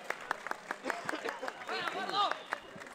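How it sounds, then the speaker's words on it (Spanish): Spectators applaud the players at a night football match at a local stadium, with scattered claps under a commentator's continuous talk. "Y la gente aplaude a los jugadores"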